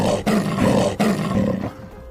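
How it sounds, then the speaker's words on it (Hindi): An angry lion roars in an animated Hindi moral story, two loud, close, sustained roars back to back, fading out near the end with no talking. "तभी शेर गुस्से से सभी पक्षियों पर दहाड़ने लगा।"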